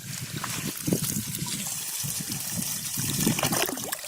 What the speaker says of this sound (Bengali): আমাদের 80 ওয়াট সোলার দিয়ে কিরকম স্পিডে পানি উঠছে